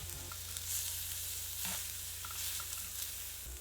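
Food tossed and stir-fried in a pan of molten tin sizzles steadily, with a faint hum underneath and a few soft scraping clicks, quiet and close with no voices.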